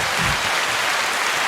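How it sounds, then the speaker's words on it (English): A brief, steady wash of applause from many hands, even and dense throughout with no voices over it. "I'm going to give this a round of applause"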